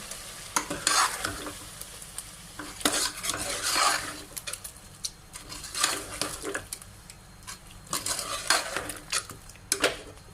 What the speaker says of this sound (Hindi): मिक्स करेंगे इसको अच्छे से।